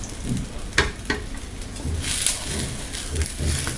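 Coconut poli frying in ghee on a pan, a close, steady sizzle with a few soft taps and scrapes of a utensil, no talk.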